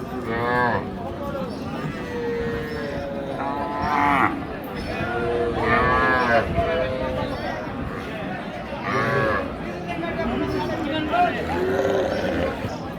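Young bull and heifer calves moo repeatedly at a busy cattle market in Raniganj, their drawn-out calls overlapping with nearby human voices and general crowd noise.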